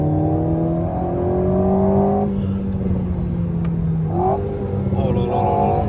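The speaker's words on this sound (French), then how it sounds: "On sent tellement que la boîte a été retravaillée, elle est vraiment impressionnante en upshift." Alpine A110 sports car accelerating hard, its engine note climbing steadily before a quick upshift drops the pitch around the four-second mark, then pulling and rising again; loud and continuous throughout.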